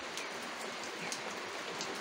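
Steady rain falls on a village farmyard near a poultry shed, a dense, even hiss of drops close by with no voices.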